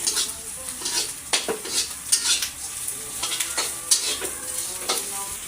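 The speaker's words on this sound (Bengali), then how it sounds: "এই যে চিংড়ি মাছের খোসাগুলো কিন্তু ভাজা হয়ে গেছে" Prawn shells frying and being stirred in a pan, with steady sizzle and frequent scraping, clinking stirs of a utensil against the pan, close and fairly loud, no voices.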